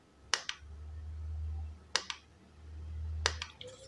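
A repaired Godox Mini K-150 flash fired three times at full power by a wireless trigger, each firing a sharp double click followed by a low, steady recharge hum, quiet and close by with no voices.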